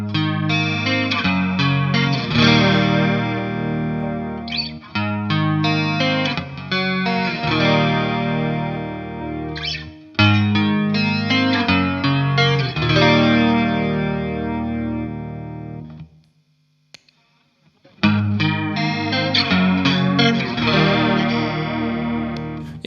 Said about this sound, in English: a little bit more darker chorus sound